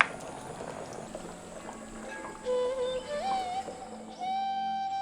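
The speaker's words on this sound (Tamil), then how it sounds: "தேங்காயை சேர்த்து குழம்பு கொதி வந்ததும்" Village-style mutton curry bubbles on the heat after coconut is added, a steady low bubbling simmer with a few thin whistling tones rising toward the end.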